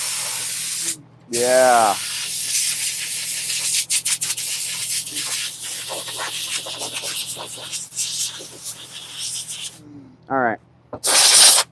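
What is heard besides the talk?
air compressor blowing off a chainsaw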